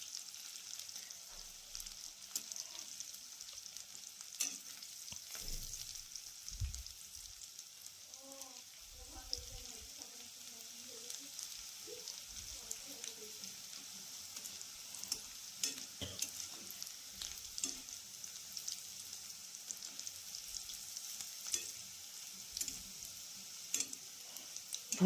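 Chopped garlic frying in oil in a pan for kalai dal, a soft steady sizzle under scattered clicks and stirring scrapes, with faint background noises and a few quiet voices.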